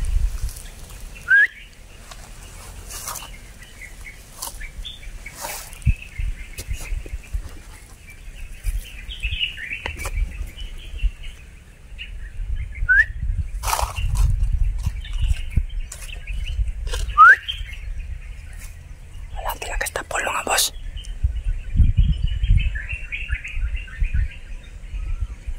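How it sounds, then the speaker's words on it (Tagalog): Birdlike chirps and whistles echo through the woods in a horror video game, scattered short calls over a low rumbling ambience with occasional sharp clicks and footsteps. "Parang may sumisipol doon banda oh."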